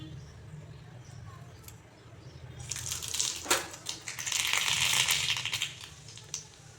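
Red mustard and radhuni seeds hit hot mustard oil and crackle into a bright sizzle that rises midway and holds close and loud, with small pops scattered through it.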